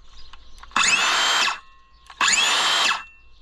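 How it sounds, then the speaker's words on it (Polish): A Makita cordless battery circular saw runs free in two close, loud bursts, each a smooth high whine that spins up quickly, holds for under a second and winds down, with a quiet gap between. "I lecę odpalić ją ostatni raz, żebyście usłyszeli, jak pięknie warczy."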